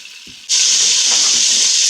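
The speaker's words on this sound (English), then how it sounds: "we got all our meatballs fried up in this thing" Meatballs frying in a pan, a loud steady hiss of sizzling that bursts in abruptly after a quiet start and holds close and even to the end.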